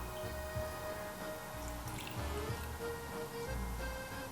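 Potato vodka being poured into a 2 ounce measuring cup, a steady liquid trickle and drip heard up close and fairly quiet, with no talking.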